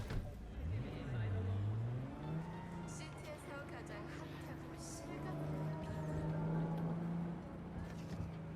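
A summoned car drives in Cyberpunk 2077, its engine droning steadily with rising and falling pitch, moderately loud throughout, while someone talks over it.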